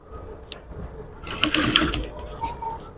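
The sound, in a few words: sewing machine stitching a corset cup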